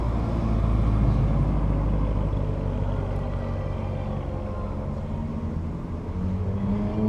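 Exotic sports cars, including an Audi R8, Nissan GT-R and Corvette Z06, rumble at a Las Vegas racing venue as they are brought out, with a steady low engine drone and no voices.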